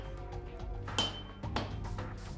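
Hot steel for a katana is struck by a hammer, two sharp ringing metallic clinks about half a second apart over a low background rumble.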